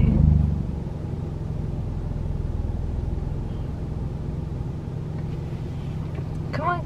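A car drives along with a low, steady engine rumble and road noise, heard from inside the cabin.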